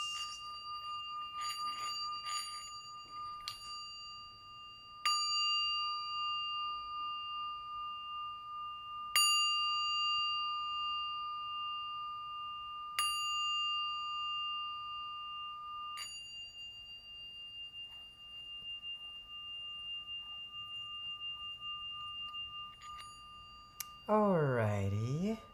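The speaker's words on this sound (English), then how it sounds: "can we do some singing bell over here?" Pure, sustained tones of a singing bell ring during a tarot reading, struck several times and left to decay slowly between strikes, with a voice talking quietly in the background.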